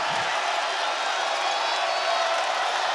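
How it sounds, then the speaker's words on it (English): A dense, roaring basketball crowd cheers inside Coleman Coliseum at an Alabama game, a steady wall of noise at a distance with a voice faintly blended in. "Crowd alive at Coleman Coliseum"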